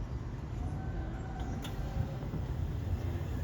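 The Bronx Zoo Wild Asia Monorail pulls into its station, a steady low rumble of the running car with a faint rising whine and a brief higher squeal, heard from on board.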